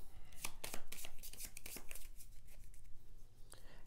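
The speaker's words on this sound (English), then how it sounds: "The players then shuffle the deck" A deck of action cards for the Carthage board game is shuffled up close, giving a quick series of crisp riffling and flicking bursts that soften toward the end.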